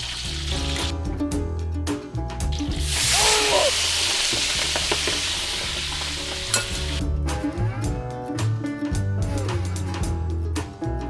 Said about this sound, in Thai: ทอดกุ้งให้ได้แค่นี้นะ